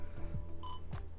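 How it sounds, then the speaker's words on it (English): A Nikon D3500 DSLR gives a short electronic beep, a steady tone with bright harmonics in an old-Atari style, sounding once near mid-clip over a low background hum. "Some old school Atari sound,"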